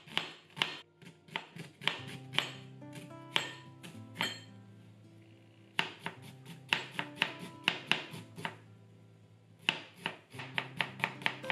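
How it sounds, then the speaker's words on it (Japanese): Knife finely chopping onion on a cutting board, a fast run of sharp, close knocks in quick bursts with short pauses between them. "玉ねぎはみじん切りにします。"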